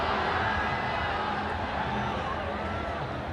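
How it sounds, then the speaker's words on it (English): Crowd at a women's football match in Nepal, a dense, steady roar of many voices, broad and continuous, with a commentator's voice mixed into the din. "Anxious crowd on the top of their lungs"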